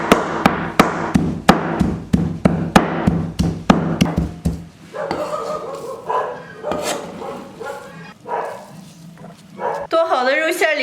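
A cleaver chops pork tenderloin into mince in a home kitchen, striking the board with loud, evenly spaced thuds for several seconds. After that come softer, sparser knocks, then someone talks.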